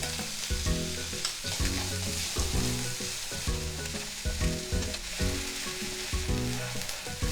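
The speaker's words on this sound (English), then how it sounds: "Once the pan is heated, I'm gonna put in the ginger and the garlic. And then right away, I'm gonna put in the scallion" Ginger, garlic and scallion sizzle in a hot pan for mapo tofu, with a steady loud crackle and a rhythmic, repeating stirring texture underneath, with no voices.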